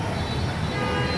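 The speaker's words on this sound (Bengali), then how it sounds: "দেখছেন মেট্রো রেল চলে গেল।" A Dhaka metro rail train passes close by beside the Uttara sector 17–18 cattle market, making a loud, continuous rushing rumble with a tonal whine throughout.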